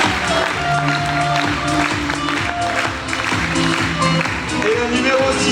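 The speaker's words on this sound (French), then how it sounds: "applaudissez-les très fort" An audience at a Reine des Fêtes election evening in Hagetmau applauds the contestants, a dense steady wash of clapping with crowd murmur and a voice or music threading through.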